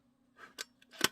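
Film compartment switch on a Canon Sure Shot 105 Zoom S compact film camera being pressed open, giving a few small, close plastic clicks and a snap, with a low steady hum behind.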